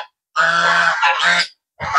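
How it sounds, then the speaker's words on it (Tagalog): Two geese on a farm honk nearby in loud, nasal calls, a long drawn honk followed by a second and the start of another, with short silent gaps between them. "Magtiayon nga gansa."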